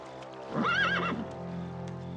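A horse gives a single loud whinny, rising and wavering for about half a second, then a low steady rumble remains.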